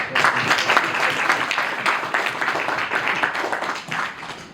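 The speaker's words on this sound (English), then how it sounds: "I want a huge round of applause for them." A round of applause for delegates at a Model UN closing ceremony: a full, sustained burst of clapping from the audience, fairly close and even, easing off slightly toward the end.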